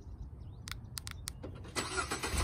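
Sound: car engine starting by remote start

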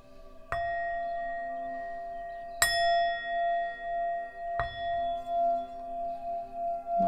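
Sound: bell rung to end a spiritual reading

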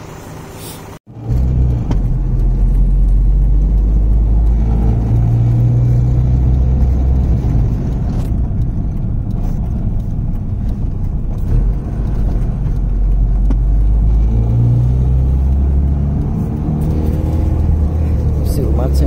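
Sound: car engine running while driving

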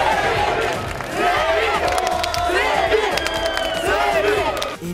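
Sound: hundreds of fans cheering

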